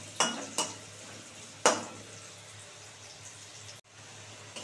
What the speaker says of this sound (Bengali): আর একটু ভালো করে ভাজবো।